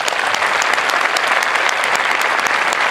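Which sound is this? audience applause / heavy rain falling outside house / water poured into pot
audience applause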